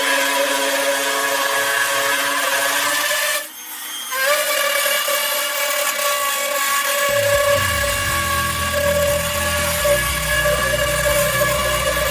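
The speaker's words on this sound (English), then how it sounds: "I'm using a Makita router with a 3/4 inch bit and this edge guide right here." A Makita router fitted with a 3/4 inch bit and an edge guide cuts wood in a loud, continuous high-pitched whine. The whine dips briefly partway through, then a lower grinding layer joins as cutting continues.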